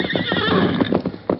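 A horse whinnies loudly and close while hooves clip-clop beneath it, the neigh rising and falling over a short burst of hoofbeats on a Lone Ranger radio drama.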